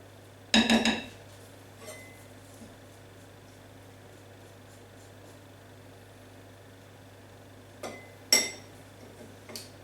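A spoon knocks and clatters against a bowl while gluten-free chocolate mandarin cookie dough is mixed, with a loud burst of clinks near the start and another near the end, separated by long quiet stretches.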